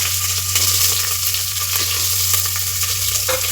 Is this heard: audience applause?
no